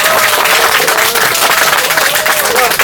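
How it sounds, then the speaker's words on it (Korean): A crowd at an outdoor visit to a hunger strike claps loudly and steadily for a few seconds, and a voice sounds faintly under the applause. "우리 박수 한번"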